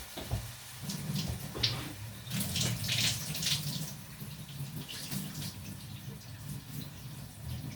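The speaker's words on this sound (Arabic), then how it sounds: "هنجيب بقى ميه سخنه." Hot water running and splashing into a pot of rice and lentils, a steady gushing pour with some clanking, close by and continuous.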